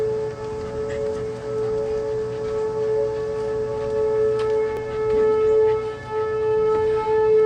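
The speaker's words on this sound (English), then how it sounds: "So unfortunately, we got some tornado sirens going off" Tornado sirens drone steadily through the whole stretch, a loud, sustained wailing tone with rich layered harmonics and a slow swell in level. No voices are heard over it.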